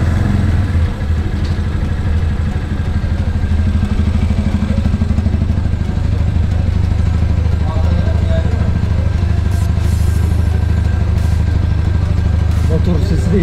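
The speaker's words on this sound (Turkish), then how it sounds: "Motor sesi de işte lan." A Mondial Drift 125 L motorcycle at 1,500 km, after servicing, runs steadily with a low, throbbing engine note and some mechanical clatter, close and loud the whole time.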